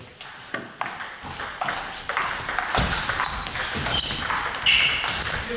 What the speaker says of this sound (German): ich höre das Schupfen auch auf der Vorhand schon